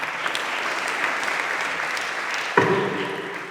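Church audience at a panel session applauding, a steady wash of many hands clapping that holds throughout, with a sharper burst near the end.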